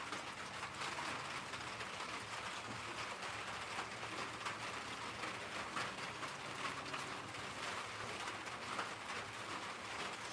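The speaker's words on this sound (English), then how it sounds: "this little small shower you give us to wet the ground" Light rain shower wetting the ground, a faint steady patter and hiss in the background with a soft dove cooing and birds calling faintly through it, no talking.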